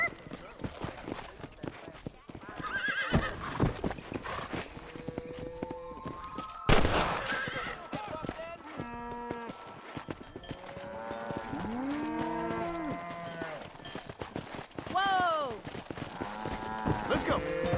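Cattle mooing repeatedly with clip-clopping hooves while herding cows to pasture in the video game Cyberpunk 2077, several drawn-out moos near and far over steady hoofbeats, with a sharp bang and talking voices mixed in.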